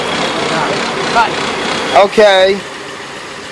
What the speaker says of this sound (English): this engine's been treated after the 10-minute burn-in